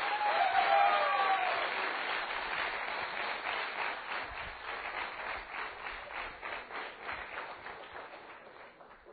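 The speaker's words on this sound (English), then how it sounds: "Big round of applause." An audience at a business school annual day event breaks into a big round of applause, loud at first and then settling into steady, rhythmic clapping that carries on for several seconds with a few faint whoops over it.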